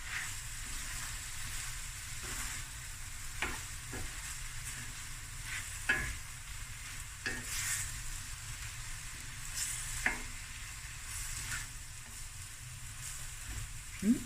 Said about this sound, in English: Let's just fry for about a minute or two and then it's done.